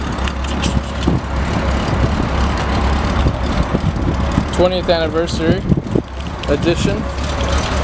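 A 1995 Honda Goldwing GL1500 motorcycle engine idles steadily and fairly loud throughout, while someone talks over it.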